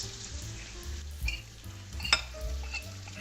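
Spelt grains and garlic hit a pan of softened carrots, giving a soft, close sizzle with scraping spatula strokes and a couple of sharp clinks against the pan.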